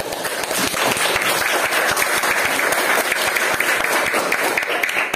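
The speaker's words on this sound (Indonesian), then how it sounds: "Ayo kita coba kasih aplaus dulu nak" A classroom of students applauds together, steady dense clapping close by and filling the whole stretch at an even level with no break.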